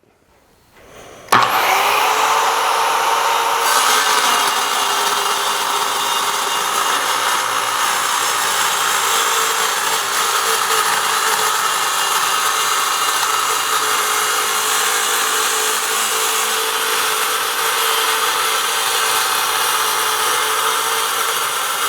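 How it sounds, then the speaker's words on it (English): An Evolution multi-material track saw cuts through 1/8 inch steel diamond plate. A loud, steady grinding whine starts abruptly after about a second and holds at full strength to the end, with no talking. "it cut right through this 1/8 inch thick steel diamond plate with no issues"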